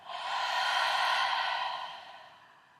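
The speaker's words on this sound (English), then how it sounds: "you're going to exhale so deeply that the mirror will get fogged up" One deep, drawn-out Ujjayi exhale fogging a mirror, a breathy airy rush close to the ear that swells, holds and then fades over about two seconds.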